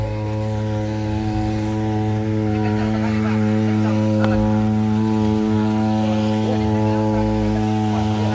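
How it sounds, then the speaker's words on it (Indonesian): A Firman FFP 15 floating water pump's small engine runs at a steady, even idle, droning continuously up close with a constant buzzy tone and no pauses. "pompa air apung dari Firmannusa FFP 15"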